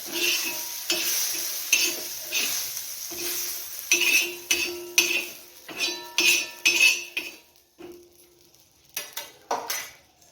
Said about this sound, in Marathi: तर आपलं सर्व भाजून झालेलं आहे ताटामध्ये काढून घेऊया